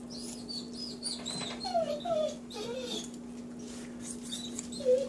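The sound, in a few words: dog excited by smoked chicken smell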